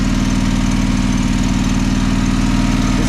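John Deere 425 lawn tractor engine idling on choke with a gummy carburetor, a loud, close, steady throbbing putter with a rapid even pulse throughout.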